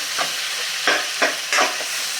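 Cauliflower and mixed vegetables with salt being stirred in a hot pan for pav bhaji: a steady sizzle broken by four scraping stirs, close and fairly loud, with no voices.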